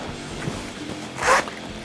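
Zipper on the centre compartment of a Chrome Hearts leather jewelry case drawn open in one short, close rasping pull, alone against a quiet room.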